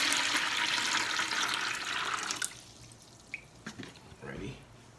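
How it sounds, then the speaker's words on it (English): Cool clean water pours into a mixing bucket for plaster, a loud steady rush for about two seconds that cuts off, followed by quieter drips and splashes. "We're going to start by pouring our cool clean water into our mixing bucket."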